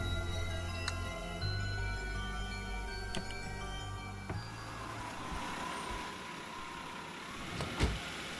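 A car pulls away with a steady engine drone and mechanical hum in Spirit Hunter: Death Mark, the sound gradually thinning and fading, with no voices.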